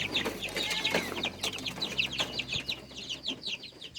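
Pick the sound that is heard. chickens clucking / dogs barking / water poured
chickens clucking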